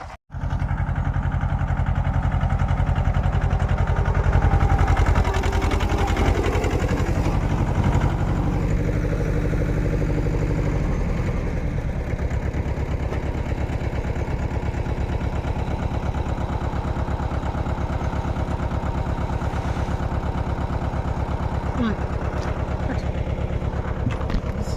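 A tractor engine idles in a low, steady rumble while fertilizer is loaded in a field, running unbroken and fairly loud throughout, with no voices.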